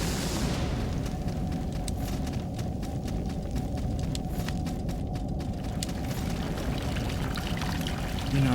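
Running water in the video game Salt and Sanctuary pours in a continuous rushing stream, steady and fairly quiet, with a faint tone and occasional soft clicks above it.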